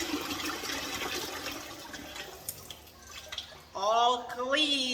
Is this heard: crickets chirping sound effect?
no